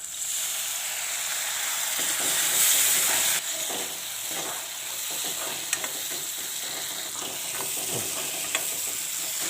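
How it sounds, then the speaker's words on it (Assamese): Spice masala with turmeric sizzles in a pan for a small fish curry after a little water is added, giving a steady hiss with soft stirring scrapes and a few louder clinks, close by with no voices. "এতিয়া মছলাখিনি জ্বলি নাযাবৰ কাৰণে মই ইয়াত অকণমান পানী দি লৈছোঁ"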